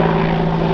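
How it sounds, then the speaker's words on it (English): An AH-64 Apache attack helicopter passing overhead, a loud, steady rotor and engine drone with a strong low hum filling a brief moment. "Wow, that is an Apache."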